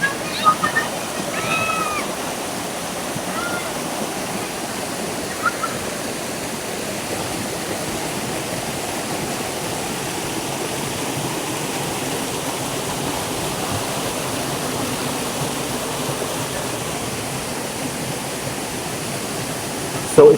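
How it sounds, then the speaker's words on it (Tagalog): Steady broadband rush of Buruwisan Falls in Siniloan, Laguna, a continuous roaring waterfall close by, with faint voices briefly audible near the start. "ito po yung pinakabukana ng Buruwisan Falls"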